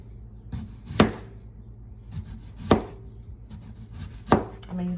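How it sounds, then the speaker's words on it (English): A knife chops potatoes for home fries on a cutting board, giving three sharp, evenly spaced chops close by against quiet background noise. "So you just cut them up."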